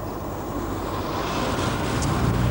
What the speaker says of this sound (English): there's a fair bit of noise, both wind and tyre noise at speed